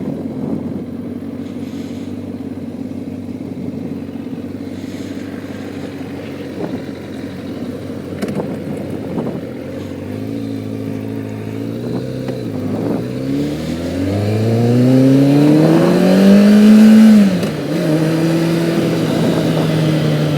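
A 2007 Kawasaki ZZR 600 motorcycle ridden along, its engine humming steadily before revving up through rising gear pulls, loud and close.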